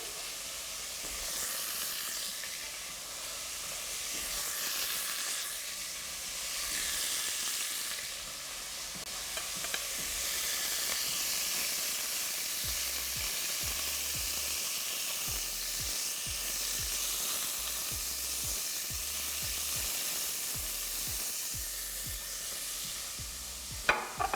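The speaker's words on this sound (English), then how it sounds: "while those last few pieces are browning, I'll add my bacon" Chicken pieces and bacon brown in a pot, a long steady sizzling hiss that rises and falls gently, with soft low stirring knocks growing more frequent toward the end and no voices.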